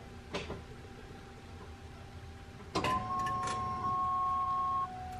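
The electric fuel pump of a Cobra car that will not start primes: a faint click, then a thin, steady electric whine lasting about two seconds before it cuts off, in a quiet setting.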